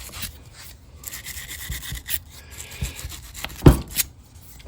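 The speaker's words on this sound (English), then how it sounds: "I'll just take a little brush here, brass bristle brush, and" A brass bristle brush scrubs the posts of a Polaris Ranger battery in short irregular rubbing and rasping strokes, close and fairly quiet, with one sharper scrape near the end and no talk.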